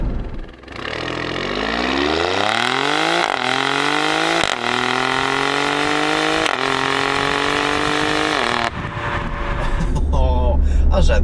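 A Ferrari-derived V6 in an Alfa Romeo Stelvio Quadrifoglio SUV, from the California T engine minus two cylinders, revs loudly through rising gear pulls with sharp shift breaks and steady close engine roar, ending in crackling deceleration.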